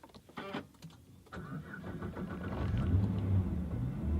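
A Nissan GT-R is started by push button; after a few faint clicks the engine catches and settles into a deep rumbling idle that grows steadily louder.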